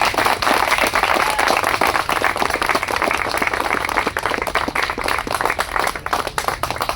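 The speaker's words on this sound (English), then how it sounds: "Right, clapping." A group of students at an English institute feedback session claps together for a team leader, sustained, fairly loud, with brisk individual claps audible within the wash.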